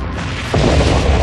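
Delta II launch vehicle exploding shortly after liftoff from Cape Canaveral Air Station: a steady distant rocket roar swells abruptly into a louder, sustained low rumbling boom that continues to the end.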